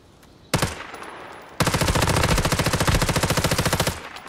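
Automatic gunfire in the video game Once Human: a loud short burst, a brief pause, then a long rapid stream of rhythmic shots that stops abruptly.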